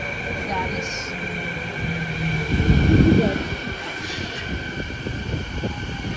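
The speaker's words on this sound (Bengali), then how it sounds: "ট্রেন অলরেডি চলে এসেছে।" A SkyTrain rumbles into a station, its roar swelling to a peak and then easing off, while voices talk nearby.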